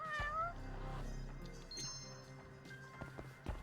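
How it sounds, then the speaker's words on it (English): Cat meowing in the video game Judgment, a clear, short meow at the start followed by faint softer mews and light thumps over quiet background ambience. "the sound of the cat meowing is just not relative to its location at all"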